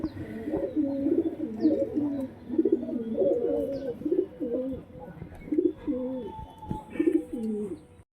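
A pair of white-faced Lotan pigeons coo close by in a rhythmic string of soft, throaty, bubbling calls that rise and fall with brief pauses between phrases.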